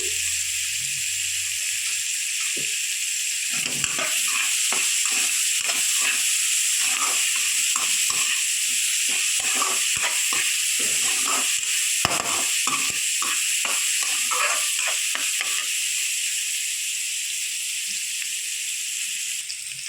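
Onions and curry leaves sizzle steadily in hot oil for a North Karnataka karchikayi palya, a bright continuous hiss broken by clusters of crackling pops and faint stirring.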